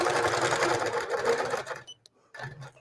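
A sewing machine stitches straight quilting lines guided by a ruler foot, a steady dense whir running for about two seconds, then pausing before a brief restart.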